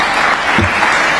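Audience clapping warmly at an African gathering, a loud, dense, continuous burst of applause filling the short stretch close up.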